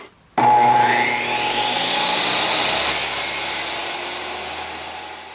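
After a brief quiet moment, a power saw starts up and whines steadily through a piece of scrap MDF, loud and close, the cutting tone rising slightly and holding until the end.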